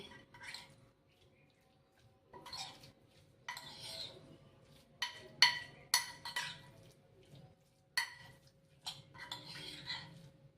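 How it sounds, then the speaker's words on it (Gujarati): Raita being stirred with chaat masala in a bowl, a spoon clinking and scraping against the dish in scattered bursts with a few sharper taps, fairly quiet with no talk. "ત્યારબાદ આપણે ચાટ મસાલો એડ કરશું બધી વસ્તુને મિક્સ કરી લેશું"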